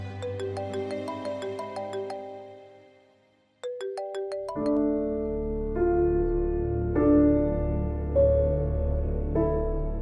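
A mobile phone ringtone plays a repeating melodic pattern, pauses briefly, then continues louder and fuller for several seconds.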